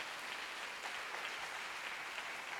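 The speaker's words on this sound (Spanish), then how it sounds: "Levantemos un aplauso al Señor por ellos." Church congregation clapping during a Spanish-language worship service, a faint, even wash of many hands applauding from a distance with no speech over it.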